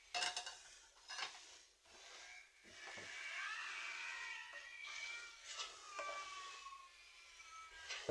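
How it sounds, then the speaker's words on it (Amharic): Onions being stirred in a pot of cooking sauce for a rice and fish dish, with scraping spoon strokes against the pot and light clinks over a soft sizzle, fairly quiet and close. "ሽንኩርቱን ጨምሬ እያማሰልኩት ነው።"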